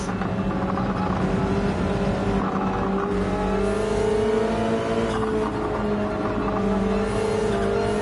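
Porsche 911 race car engine in Gran Turismo 7, a steady loud drone with rising and falling rev sweeps through corners, continuous and close with faint tire squeal.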